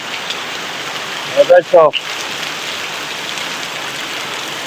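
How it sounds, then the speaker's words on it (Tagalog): Heavy evening rain pours down in a steady, loud hiss that fills the whole stretch, with someone briefly speaking over it partway through. "Sobrang lakas ng ulan guys, oh."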